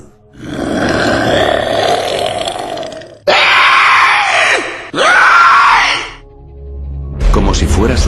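A prototype monster in a zombie-apocalypse story lets out a series of loud, drawn-out guttural roars and screeches in several separate bursts, with a short gap between them.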